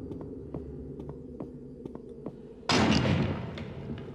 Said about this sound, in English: Loud doors.